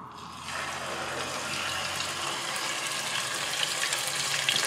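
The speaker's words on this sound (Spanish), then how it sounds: "Esto es nada más para darle una sellada al pollo." Chicken searing in a little oil in a cooking pot, a steady broadband sizzle that swells in at the start and holds loud and close to the end, with no talk.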